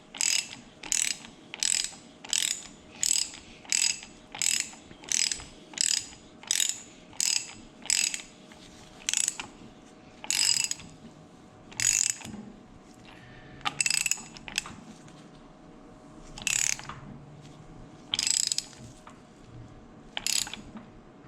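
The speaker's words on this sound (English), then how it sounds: "So I'm going to keep cranking this until I get it snug, and it should pull the axle" A ratchet cranks in a steady run of sharp mechanical clicks, drawing an axle into place; the strokes come fast and regular at first, then slow into spaced, heavier bursts, close and loud with no talk.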